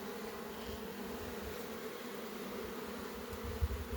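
Honey bees buzz at a hive where a new swarm has formed, a steady close drone of many insects with no talk.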